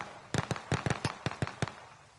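Bursts of gunfire from the video game Call of Duty Warzone: about nine sharp shots in an uneven rhythm, loud and close, with no talking over them.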